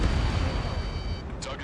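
Missile launches and explosions from the Ace Combat 7 flight combat game rumble as a dense, continuous roar, with a brief sharper burst near the end.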